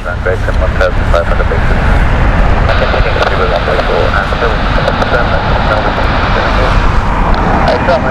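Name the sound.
British Airways Boeing 787-10 aircraft on go-around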